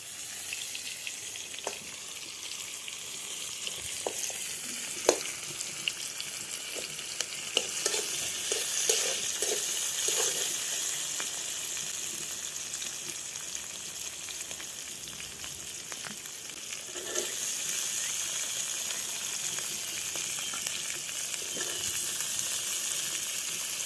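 Freshly picked garden onions frying in oil in a pan for a Sonabogo river fish curry, giving a steady close sizzle with scattered spatula scrapes and stirring clatter, continuous throughout without speech.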